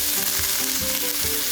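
White zucchini (koosa) sautéing with salt in a pan for a Kerala dish: a continuous close, even sizzle with faint stirring movements, no voices.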